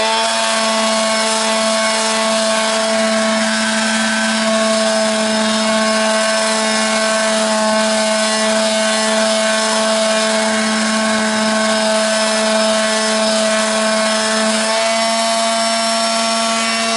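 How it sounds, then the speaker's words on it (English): A power sander works over wood, finish sanding a glider bench with finer grit; a loud, steady motor whine with a constant rubbing hiss runs unbroken and close throughout, with no talking. "I'll take this sander here and I'll finish sand it with a finer grit."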